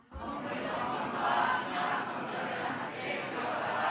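A church congregation shouts together in unison during a Sunday worship service, a loud, broad crowd roar that rises after a brief onset and holds steady for several seconds.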